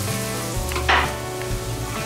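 Butter sizzles and crackles in a hot pan at the start of homemade gravy for deer meat, a steady close frying hiss with a brief louder burst midway and no talking.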